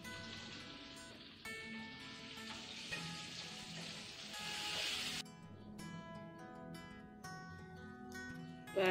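Fish frying in oil in a pan for meen pollichathu, a dense continuous sizzle with bright crackle that shifts in intensity partway through, close and moderately quiet with no voices.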